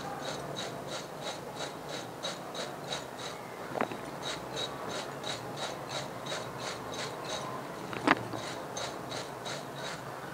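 Spiced fried potato namkeen is tossed and mixed with chaat masala, giving a steady dry rustling, scraping rattle in regular rhythmic pulses, fairly faint and close, with no talk.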